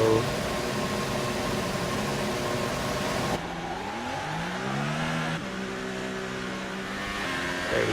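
A McLaren Formula 1 car engine on a flying lap in F1 2018, a loud continuous high-pitched whine rising through the revs, with a short shift dip midway, alone without speech.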